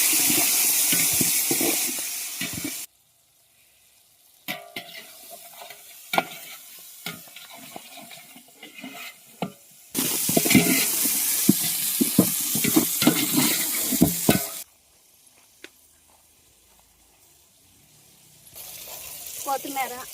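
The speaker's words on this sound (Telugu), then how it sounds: "ఉల్లిపాయ మొత్తం వేసుకుని" Onions with ginger-coconut paste fry in a large pot for a 40-person birthday meal, with a loud sizzle and scraping stirs that come in bursts, separated by quieter stretches.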